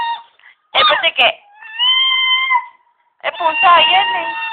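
Cat meowing in a few loud, close cries, including one long drawn-out meow, with voices speaking among them.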